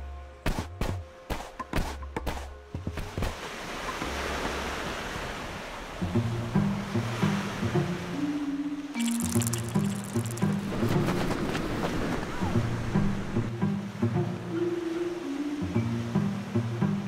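Ocean waves washing onto a beach at night on the Illescas Peninsula in Peru, a steady surf wash with gusts of wind buffeting the microphone and some faint lower rumbling.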